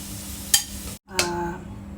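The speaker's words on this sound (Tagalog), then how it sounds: "para makapag-start na tayo ng gisa ng ating bawang sibuyas" Garlic and onion sautéing in a pan, with a steady low hum broken by two short, bright hissing sizzles as the aromatics hit the hot oil, fading back to a quiet simmer.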